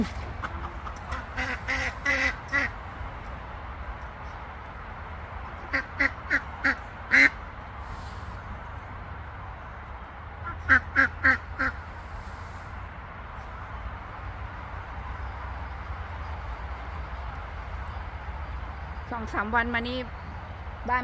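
Farm ducks kept alongside chickens on muddy, rain-soaked ground, quacking in repeated short bursts of several calls at once, close and loud against a low background hum.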